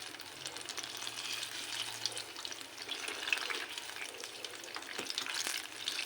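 Banana cue frying in plenty of oil, a steady bright sizzle and crackle running throughout, close and fairly quiet, with a faint low hum underneath.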